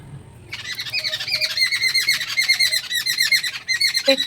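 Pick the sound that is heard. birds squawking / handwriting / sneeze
birds squawking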